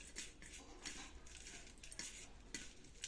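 Dried tiny shrimp (jawla) dry-roasting in a pan while being stirred, soft scraping and rustling strokes repeating in quick bursts over a faint crackle, fairly quiet and close.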